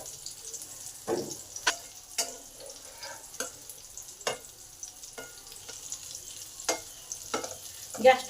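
Jackfruit seed kebabs fry gently in a pan over low gas, giving a soft, steady sizzle punctuated by occasional crackles and a few sharper clinks of turning.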